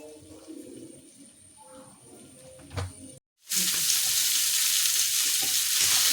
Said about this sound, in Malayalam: നമുക്കൊരു ലേശം എണ്ണയും കൂടി ഒഴിച്ച് കൊടുക്കാം.